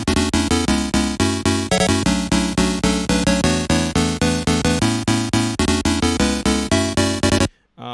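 Bright retro synthesizer chords move through a progression in a steady, rapid pulsing rhythm, loud and alone, cutting off abruptly near the end.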